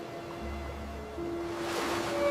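Ocean waves washing in a soft, continuous surf that swells slightly toward the end, heard at moderate level alongside faint steady tones, with no one talking.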